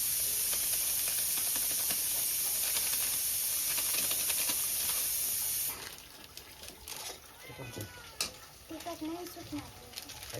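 A pressure cooker lets out a loud, steady steam hiss that cuts off abruptly, leaving a quieter room where voices and small kitchen clatter continue nearby.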